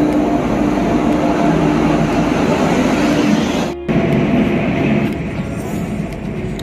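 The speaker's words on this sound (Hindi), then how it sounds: "दोस्तों हम लोगों का ट्रेन चला आया है।" Train pulling into a station platform in Kolkata, a loud, sustained rumble and roar filling the whole stretch, briefly dipping near the middle before continuing slightly quieter.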